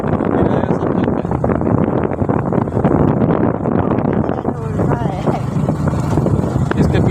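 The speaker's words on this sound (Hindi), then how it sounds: "यही बाइक है जो कि आप देख रहे हैं, बजाज की सिटी 100, दमदार बाइक है" A Bajaj CT 100 motorcycle ridden on the road from Seoni to Chhindwara, with a steady engine drone buried under heavy, continuous wind buffeting and a rider's voice talking over it.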